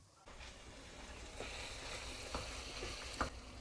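Masala for Pakistani-style aloo qeema fries in oil with a soft, steady sizzle, a few light scraping stirs breaking through, close but quiet and without speech.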